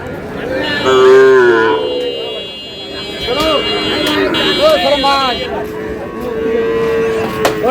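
Sahiwal bull calves and cattle at the Ambari livestock market give repeated moos, one long low call early and several shorter ones later, close by, amid crowd chatter and a steady high-pitched buzzing hum.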